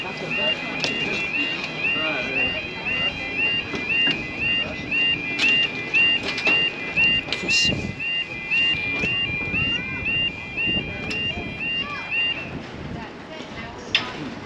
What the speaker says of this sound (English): level crossing has been activated now